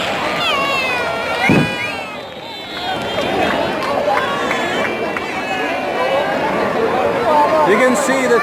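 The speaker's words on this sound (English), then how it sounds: "You can see the crowd is so happy." A happy crowd gathers at Eid fireworks in Dubai, with a continuous dense hubbub of chatter and voices and one brief dull thump, loud and close.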